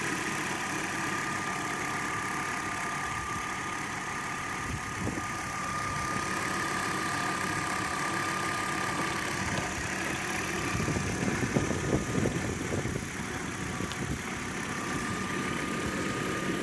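A 1991 Audi Coupe Quattro with a 5-speed manual idles smoothly, a steady close engine hum with a faint whine, swelling slightly midway before settling, with no talking.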